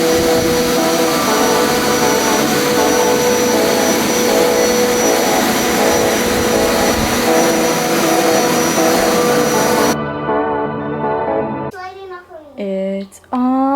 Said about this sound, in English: Now I gotta do a shampoo the living room carpet.